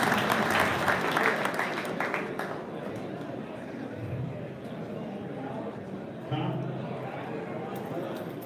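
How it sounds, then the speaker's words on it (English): An awards-ceremony audience at a kayak bass fishing national championship claps in a dense burst for the first few seconds, then the applause thins into a steady crowd murmur while someone talks over it. "I'll give him a round of applause"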